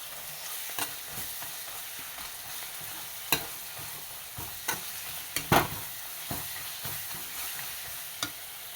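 Crushed garlic cloves, small ginger pieces and four green chillies sauté in a hot pan for fish biryani, giving a steady close sizzle broken by sharp spoon clinks and scrapes against the pan.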